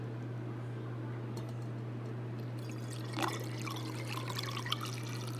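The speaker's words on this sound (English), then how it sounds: "I have a funnel under here and a mesh sieve. So I'm going to pour that in there." Elderberry syrup mixed with honey trickles through a funnel and mesh sieve into a jar, a soft liquid pour and dribble over a steady low electrical hum, growing splashier toward the end.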